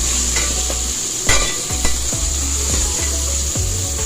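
Vegetables and beans for a veg biryani are stirred in a sizzling pan, with a steady frying hiss and several knocks and scrapes of a spoon against the pan, close and loud with no talk.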